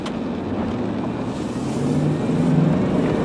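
A blue 1998 Chevy Tahoe 4X4 pulls away and drives off, its engine and road noise a steady low rumble that swells slightly as it gains speed, with wind buffeting the microphone and no talking.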